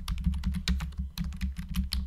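Rapid typing on a computer keyboard, a dense, uneven run of close key clicks and taps continuing without pause, with no talk.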